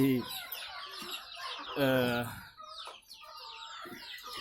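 Several free-range village chickens in a small coop cluck and squawk in a busy, overlapping chorus, close by and fairly loud, with a rooster-like call rising in the middle.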